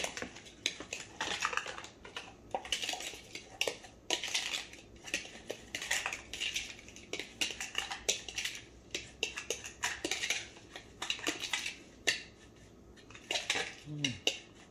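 Peppers are stirred into a hot pan while cooking, with a utensil clinking and scraping against the pan in irregular bursts of close, bright metallic knocks and scrapes.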